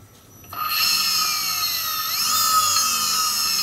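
Hyundai HSG IPM electric motor driven by a Lebowski controller whines up to 14,000 RPM, a loud steady high-pitched tone that starts abruptly and rises further partway through, with no talk.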